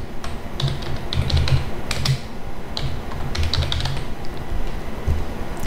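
Steady, fast typing on a computer keyboard while writing Python code, with close, crisp key clicks and a few heavier strokes throughout, no speech.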